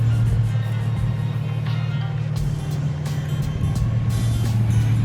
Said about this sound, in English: let me bring the car in here